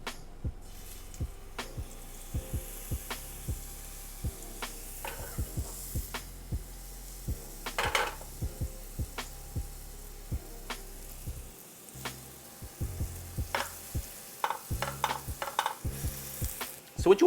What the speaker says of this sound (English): We have these salmon fillets that we're gonna pan sear.